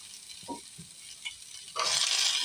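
Potatoes and peas frying in a pan with oil, giving a faint crackling sizzle with soft stirring scrapes, then the sizzle swells louder near the end as the pieces hit the hot pan.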